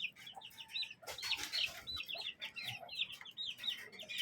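Chickens being fed cluck and chatter in a continuous busy chorus, with rising and falling calls close by and no talking.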